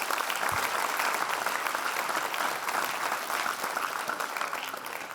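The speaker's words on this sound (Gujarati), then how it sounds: "FY વાળા દીકરાઓએ જે હાથ ઊંચો કર્યા ને, એમના માટે આપણે જોરદાર તાળી આપીએ" An audience claps for first-year students at a youth assembly, a dense, even burst of applause from a sizable crowd that holds steady for several seconds before easing slightly.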